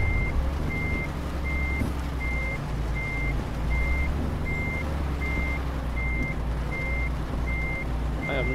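A truck reversing a trailer on the road to the Helsinki container port gives a steady series of evenly spaced reversing beeps over a constant low engine rumble, with no talk.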